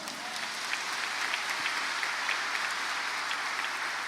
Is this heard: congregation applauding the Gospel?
yes